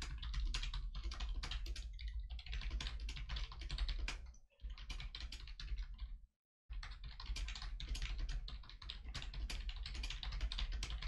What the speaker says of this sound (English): So I'm actually just going to type a number of information.